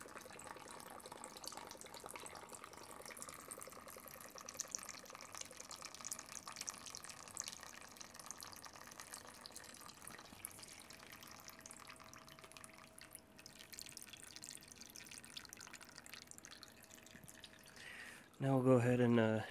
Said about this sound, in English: it tilted to the left, and we'll try to get most of the fluid out